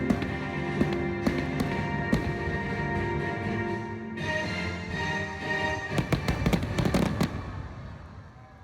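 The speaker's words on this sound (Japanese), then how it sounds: "しかもその後は花火まで。" Fireworks burst over the Parque España theme park as a steady string of sharp bangs and pops. The blasts cluster more densely toward the end over a continuous background rumble.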